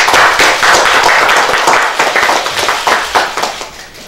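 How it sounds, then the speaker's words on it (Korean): Loud, close clapping from attendees at a Korean party leadership committee meeting, many hands beating in uneven bursts that thin out into separate claps toward the end. "먼저 오늘 우리 최고위원회에 함께해 주신 문경호 최고위원님께 모두 박수로"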